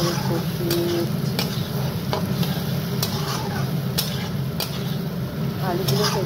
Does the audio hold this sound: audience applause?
no